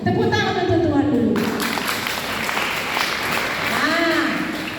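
Congregation clapping in a church service, a dense wash of applause that swells after a brief opening and carries on steadily, with voices calling out among the crowd.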